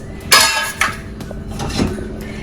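Plates and dishes clink and knock together as they come out of a Bosch dishwasher, a few sharp close clatters over a couple of seconds with no speech.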